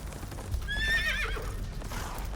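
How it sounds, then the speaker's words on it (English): A horse in a video game gives a high, wavering whinny close by over a low rumbling background. The cry rises and trails off within about a second, followed by a fainter breathy snort. "A horse is charging right at me."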